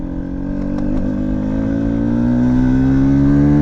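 A Genuine Stella scooter fitted with a Malossi 166 kit accelerates in second gear, its engine drone rising smoothly and loudly in pitch over a few seconds, heard close with no speech.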